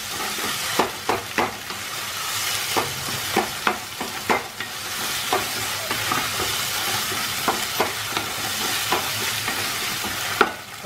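Mashed eggplant for a tomato-eggplant chutney cooks in a pan, a soft sizzle broken by regular scraping strokes of a spoon, close and without any voices.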